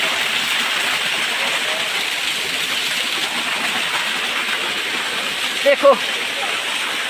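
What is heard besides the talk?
small waterfall in a river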